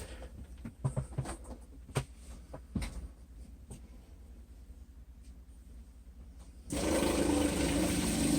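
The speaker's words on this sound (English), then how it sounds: "Then we're going to go ahead and turn the pump on." RV water pump starts up during winterization, drawing pink antifreeze into the plumbing; after scattered faint clicks and handling knocks, a loud steady whir and rush begins abruptly and holds near the mic to the end.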